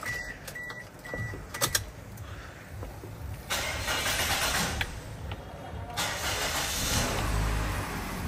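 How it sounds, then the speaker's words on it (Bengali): A 2004 Toyota Corolla engine cranks with a self-starter and catches, settling into a steady mid-pitched idle that fills the rest of the moment, close and moderately loud, with no voices. "এই যে আমরা যদি আপনাকে গাড়ির সাউন্ডটা শোনাই, ইঞ্জিনের সাউন্ডটা শোনেন"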